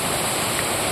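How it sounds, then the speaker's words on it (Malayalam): A forest waterfall pouring steadily, a dense, loud, continuous rush of water heard alone and close up. "കണ്ടോ എന്ത് മനോഹരമായിട്ടാണ് വെള്ളച്ചാട്ടം മുഴുകുന്നത്."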